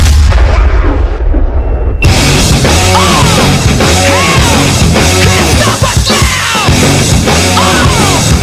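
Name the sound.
cannons firing after a Tampa Bay Buccaneers touchdown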